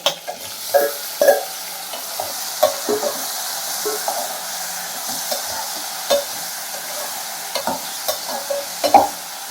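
Tomatoes are stirred in a pan for a dried anchovy broth, with a soft background sizzle broken by irregular scraping and clinking of the spoon against the pan.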